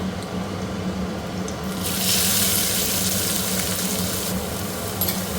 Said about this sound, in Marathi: कांदा एक फ्राय करून घेते।